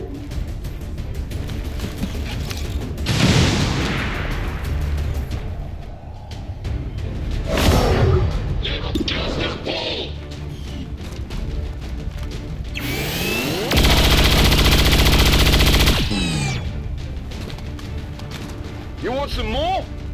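Bursts of gunfire and explosions in XCOM 2, with loud booms, crashing impacts and a long roaring blast midway, mixed with radio-style voices talking over the action.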